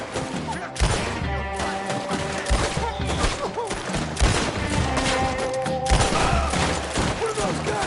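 Bursts of gunfire ring out in a Red Dead Redemption 2 shootout, several sharp volleys and scattered shots layered over continuous game music and effects, loud and fairly close throughout.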